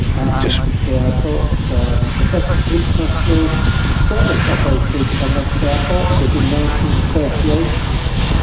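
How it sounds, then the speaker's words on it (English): A KLM Boeing 787-9 airliner in traditional blue livery taxiing at Manchester Airport, a loud continuous engine roar and whine filling the whole stretch, close by, with a person speaking over it. "taxiing right in front of us here, ladies and gents, the RVP. In that traditional KLM blue."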